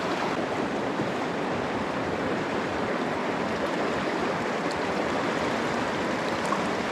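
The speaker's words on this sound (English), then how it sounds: "there's the river" A river running beside a campsite, heard as a continuous dense rushing wash of flowing water, steady and fairly close, with no voices.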